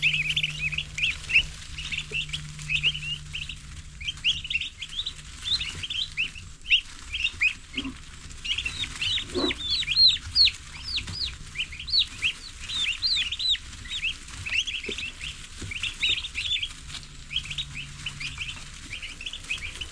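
Baby turkey chicks packed into a brooder keep up a dense, continuous chorus of high, thin peeps, many overlapping at once against a low steady hum.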